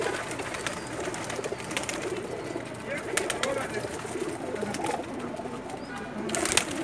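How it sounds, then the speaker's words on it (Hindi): Mixed pigeons kept by a fancier coo in a soft, continuous low murmur, with a few sharper bursts of wing flutter or movement close by, fairly quiet overall. "ये मैं आपको मिक्स कबूतर दिखा रहा हूं जी हमारे"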